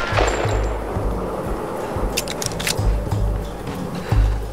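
Rapid bursts of gunfire in the video game Tomb Raider crackle in short volleys, with quick sharp pops layered over a low rumbling background.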